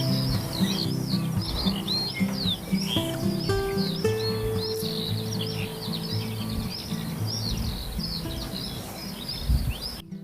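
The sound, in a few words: redstart family birds calling near their nest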